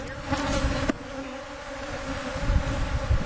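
Honey bees on brood frames in a small cell hive with an unlimited brood nest, opened without smoke, hum in a loud, steady buzz close by for the whole stretch, with no voices.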